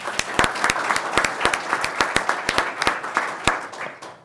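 At a city commission meeting, the room applauds a 911 communications supervisor marking 10 years of service: a steady patter of clapping with several sharp, close individual claps standing out, tapering slightly toward the end.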